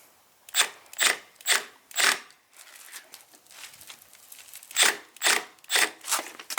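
A power drill working a stuck JIS screw on a vintage Honda CT70 mini trail bike during a big bore 88cc build, giving rasping, ratcheting bursts: four quick pulses, a quieter grinding stretch, then four more, close and loud without talk.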